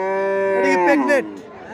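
A single cow or bull at the large rural Charmonai cattle market near Barishal gives one loud, close, drawn-out moo that ends abruptly, with faint crowd noise behind it.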